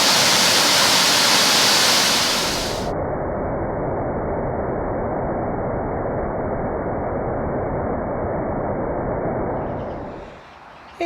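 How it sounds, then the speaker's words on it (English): Loud, steady rush of water pouring over canal lock gates, a dense continuous roar that fades slightly near the end. "Look at the water going over those gates."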